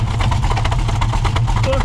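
A 1971 Mustang's engine runs with its exhaust restrictors removed, giving a steady, loud, rumbling exhaust note close by with no pauses.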